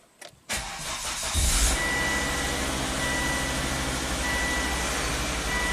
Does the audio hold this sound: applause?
no